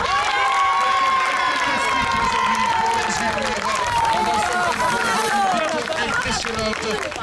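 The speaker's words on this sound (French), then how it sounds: "on peut l'applaudir très très fort" Crowd at a youth cycling school race in Albi cheers and applauds steadily throughout, with an announcer talking loudly over the noise.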